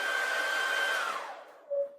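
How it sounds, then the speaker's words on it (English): A hair dryer blows with a steady whooshing whine, then winds down as it is switched off, its pitch dropping into a fading hum. "Now, Viking, I'm going to switch my hairdryer off"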